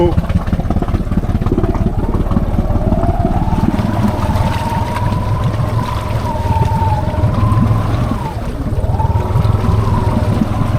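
A Honda Pioneer 500 UTV fitted with a locker crossing a pond, its engine droning loudly and steadily while the pitch rises and strains, with sloshing water underneath.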